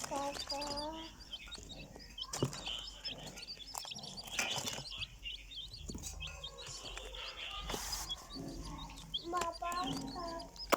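Baby chicks cheep and peep in high, rapid bursts from inside paper bags, with bird calls scattered around and people talking in Hindi over the chirping.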